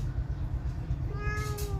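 A cat with an injured paw meows once, a clear rising-and-falling call near the end, over a steady low background hum.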